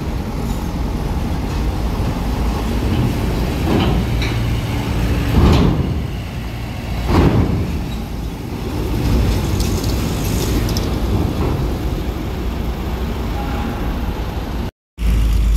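A Damri bus with an SR2 body on a Hino chassis rolls onto a ferry at night, its engine rumbling steadily under broad vehicle and hull noise, with two brief louder surges and a clunk near the end.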